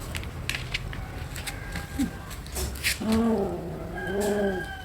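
A pet cat named Soyikuttan gives a few short murmuring, trilling calls, soft and fairly close, clustered in the last couple of seconds against quiet background noise.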